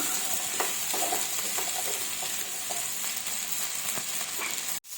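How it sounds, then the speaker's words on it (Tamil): Onion and tomato sauté in a pan for a urad dal chutney, a steady soft sizzle with occasional scrapes and stirs, close and fairly quiet, no voices. "வெங்காயம் தக்காளியோட பச்சை வாசனை போகிற வரையிலும் வதக்கிக்கிட்டால் போதும்."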